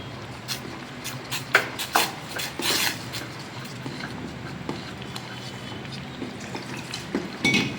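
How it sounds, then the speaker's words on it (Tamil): Ragi malt being stirred in a metal pan, with scraping and clinking of a spoon against the pan in irregular bursts, some louder strokes close by, over a low steady background. "நம்ம அப்படியே கலக்கிட்டே இருக்கணும்"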